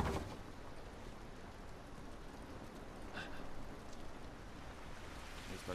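Steady rain in The Last of Us, a dense continuous hiss of falling water holding at an even level throughout with no voices over it.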